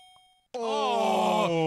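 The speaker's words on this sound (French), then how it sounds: "La cloche." Punch-Out!! NES boxing ring bell, a sustained ringing tone starting abruptly after a brief near-silent gap, loud and alone for about a second.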